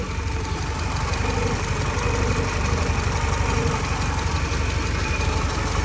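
A restarted Porsche 944 project car engine idles steadily and close by, a continuous low rumble with slight knocking texture and no talk over it.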